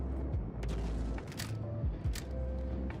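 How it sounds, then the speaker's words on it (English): Booming blasts from a space ship combat video game, several dull low thuds and bursts spread over a few seconds amid a constant rumbling game soundscape, with no talking. "Heard an explosion."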